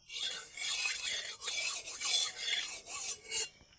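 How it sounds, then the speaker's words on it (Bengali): Ghee being stirred in a kadai for a rice-flour sweet, a spoon scraping and swishing against the pan in repeated bursts with short pauses, close and fairly soft, with no voices. "ঘিটাকে ভালো করে কড়াইতে এইভাবে মিশিয়ে নেব"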